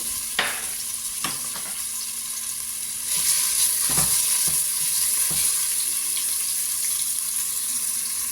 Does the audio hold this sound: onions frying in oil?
yes